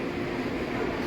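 Verde Canyon Railroad passenger train riding through Clarkdale, Arizona, with a steady low rumble and rolling rail noise heard from inside an open car, continuous and moderately loud.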